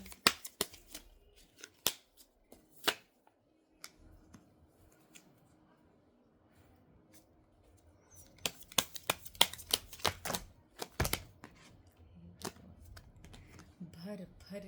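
Tarot cards are shuffled and drawn in a series of sharp, crisp flicks and slaps, scattered at first and then denser rapid riffling toward the end, close and fairly quiet with faint room hush between.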